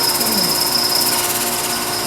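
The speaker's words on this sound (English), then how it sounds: "A little harder to sand that notch." Sanding a notch in a carved wooden scoop in the Soren Berger style, a steady close whirring rasp of abrasive on wood that holds evenly for a couple of seconds without talking.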